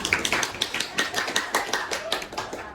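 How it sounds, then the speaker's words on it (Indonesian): Classroom students clapping for a presenting group, a loose patter of individual claps with uneven rhythm, fairly close and moderately loud. "Kita kasih tepuk tangan untuk kelompok 4"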